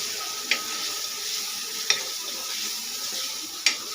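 Meat with sauce sizzles steadily in a pan while being fried for biryani, with three sharp scrapes of a spoon stirring it at regular intervals over the constant frying hiss.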